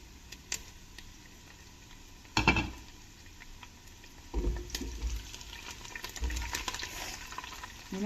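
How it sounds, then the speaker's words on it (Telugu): Green chillies frying in a pan for sprouts biryani, a faint steady sizzle with a few louder stirring bursts and clatters against the pan. "ఇప్పుడు పచ్చిమిర్చి కూడా వేగాయి"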